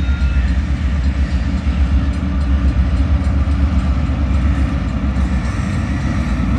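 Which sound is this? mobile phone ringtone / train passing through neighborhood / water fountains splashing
train passing through neighborhood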